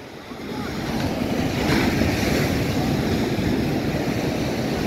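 Sea waves rush up a beach at Puducherry, a broad roaring wash that swells and stays strong, mixed with wind buffeting the microphone.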